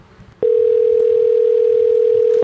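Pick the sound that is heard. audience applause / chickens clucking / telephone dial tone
telephone dial tone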